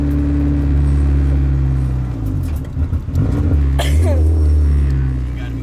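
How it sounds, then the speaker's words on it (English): A straight-piped Nissan 240 rumbles loudly from inside as it drives, its exhaust swelling and easing with the throttle while a voice talks briefly in the middle. "You guys heard the exhaust finally."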